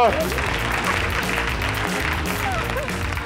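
An audience applauds during a special lunchtime TV show, with dense, steady clapping sustained throughout, mixed with voices.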